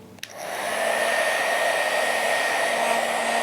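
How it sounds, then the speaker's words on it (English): Heat gun blowing hot air onto shrink plastic: a click, then a steady, loud, close rushing whoosh of air that holds constant throughout, with no voices. "which is with a heat gun."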